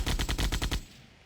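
A biplane's machine gun in Sid Meier's Ace Patrol fires one short, loud burst of about seven rapid rounds, then the sound quickly fades out.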